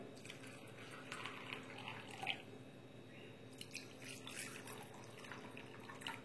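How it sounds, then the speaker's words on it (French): Water trickles and drips steadily over soaked oilseeds being watered with mountain spring water, a faint, continuous splashing with scattered brighter drops, no talk. "Je mouille bien correctement, j'arrose tous mes oléagineux."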